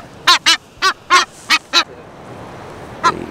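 Seabirds on Lord Howe Island give six loud, nasal, honking calls in quick succession, then one more after a short pause, close by over faint wind.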